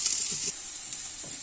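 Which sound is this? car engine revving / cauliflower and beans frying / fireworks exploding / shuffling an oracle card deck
cauliflower and beans frying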